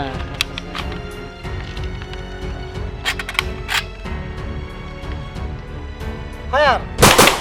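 Cartoon-style gunfire rings out as sharp repeated shots over a busy soundtrack with music and effects. The shots grow louder toward the end, and voices speak during the firing.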